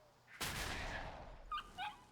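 Super Bark, a dog pet's bark ability in a World of Warcraft pet battle: one sharp loud bark-like burst that trails off, followed by two brief yipping chirps.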